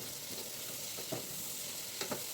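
Carrots, beans and potatoes are stirred into a pressure-cooker pot for millet pongal, giving a low steady sizzle with a few soft clinks and scrapes near the end.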